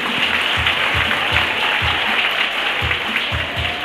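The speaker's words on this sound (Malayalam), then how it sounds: "നല്ല കൈയടി." Audience at a school event applauding students as they are called up, a dense, steady wash of clapping with no gaps.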